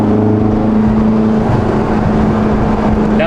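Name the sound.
stock turbo of a JDM car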